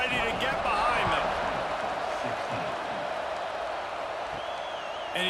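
Broad, steady roar of a stadium crowd before a kickoff in an EA Sports College Football 26 game between Ohio State and Washington, sustained and loud with an announcer talking over it.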